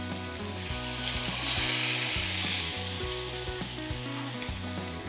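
Cooked dal poured into a hot, sizzling tempering that fizzes loudly and steadily, with a brief surge of spitting, then settles into a continuous close sizzle with light stirring under a low steady hum.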